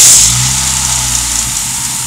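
Dodge Neon engine idling steadily on its stock computer, a low, even hum with a faint high whine, close and alone without talk.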